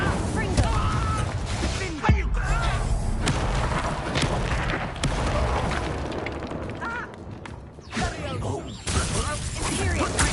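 Incendio and Confringo spells cast in Hogwarts Legacy burst out as repeated fiery whooshes and booming impacts with sharp cracks, loud and busy throughout, while a voice calls out over the combat.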